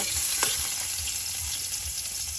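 Native chicken being sautéed in a pan, a steady close frying hiss with faint scraping under it, brief and without speech.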